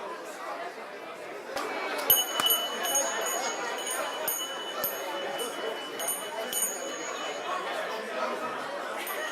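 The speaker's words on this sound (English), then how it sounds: "That's the bell." A bell rings out several times during a group exercise at a seminar, its bright tones sounding over busy room chatter and scattered laughter.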